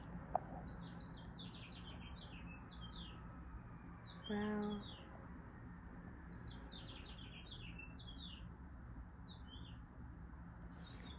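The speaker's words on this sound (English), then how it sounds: "the bird is singing again" Quiet birdsong of repeated high chirps and trills rises over faint background hum; someone briefly exclaims midway.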